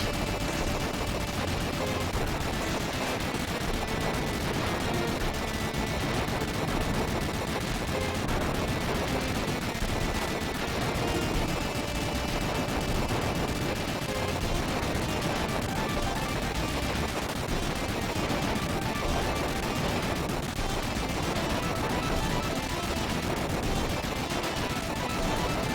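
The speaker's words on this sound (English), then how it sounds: "So is this thing durable or not with that many explosions?" Dense, continuous barrage of gunfire and explosions from the Front Mission: Gun Hazard video game, a loud unbroken wall of rapid shots and blasts with no pauses.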